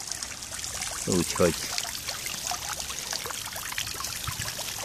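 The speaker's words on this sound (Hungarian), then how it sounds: "Itt a gyönyörű kis szökőkutam, vizecske folyik." A small garden fountain trickles and splashes steadily in the background, a continuous close bright stream of water, while someone speaks briefly over it.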